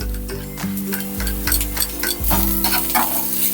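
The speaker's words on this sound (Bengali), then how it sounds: "পেঁয়াজ রসুন আদাটা আমি হালকা করে ভেজে নেব, বেশি লাল করব না, কিন্তু খুবই হালকা করে ভাজবো" Onion, garlic and ginger lightly frying in a pan while being stirred, with close, loud scraping strokes repeating over a constant crackling sizzle.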